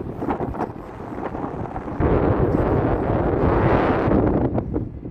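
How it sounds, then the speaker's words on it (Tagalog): Strong wind roars and buffets loudly against the microphone, surging heavier partway through in a steady, rushing blast. "Dito dadaan ng malakas ang hangin."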